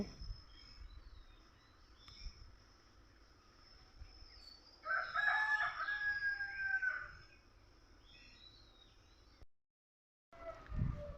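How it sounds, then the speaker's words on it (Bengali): A single rooster crows once at a moderate distance, a long drawn-out call over a quiet background of faint insect chirring. "এখানে মোরগ ডাকতিছে সুন্দর মোরগ ডাকতিছে"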